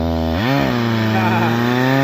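A broken chainsaw runs in a forest, revving up quickly to a high, steady whine and holding there loudly to the end, with no talk over it.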